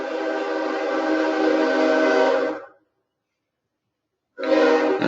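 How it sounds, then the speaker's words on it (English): A train sounding a sustained, loud horn blast for about two and a half seconds, cutting off abruptly into silence before the blast resumes near the end. "Here comes a train."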